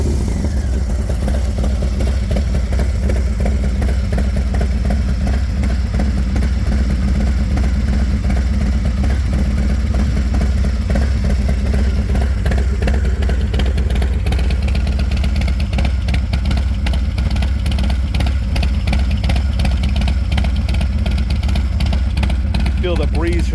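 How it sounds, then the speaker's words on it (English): A 2023 Harley-Davidson Low Rider S with a 117 engine, Screaming Eagle cam and Vance & Hines exhaust rumbles close by, revving repeatedly with a deep, throaty exhaust over a steady idle. "117 Screaming Eagle Power Cam, Vance & Hines exhaust, tuned with a Screaming Eagle tuner and a fueling air filter"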